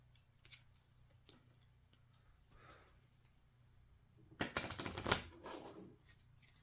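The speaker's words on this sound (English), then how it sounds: "we're just going to do 1 shuffle backwards here to kind of straighten the cards out a bit" Cards from the Mini Rogue board game riffle-shuffled once near the end, a brief close flurry of rapid papery flutter, preceded by faint handling taps and rustles in a quiet room.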